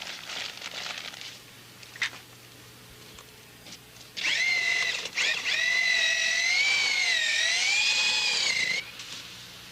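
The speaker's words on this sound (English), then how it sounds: "You may add up to 1 quart of water and mix with a low RPM 1/2 inch drill motor." A low-RPM half-inch drill motor mixes cement with LD81 acrylic, whirring with a steady, slightly wavering whine for several seconds after quieter earlier bursts.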